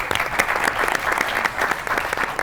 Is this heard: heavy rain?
no